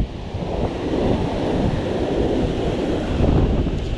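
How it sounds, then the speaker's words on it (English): Strong wind buffets the microphone over rough sea surf at a beach fishing spot at Pennington, a steady loud roar of gusts and breaking waves throughout with no talking. "And it's really blowing now, guys."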